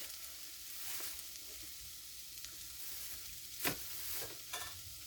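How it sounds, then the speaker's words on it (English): Red curry paste goes into a sizzling pot for Thai coconut curry chicken soup and is stirred in: a steady, close frying hiss with soft scraping and one sharp clatter partway through. "Now we're going to add our red curry paste."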